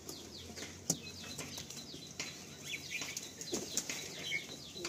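Madrasi pigeons kept for breeding flap their wings in a loft, with repeated soft flutters and a few sharper wing claps over faint chirps and background noise.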